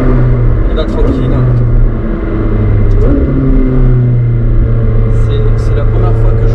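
A McLaren 765LT pulls away gently with a low, steady engine rumble and hum, heard close up under a person talking.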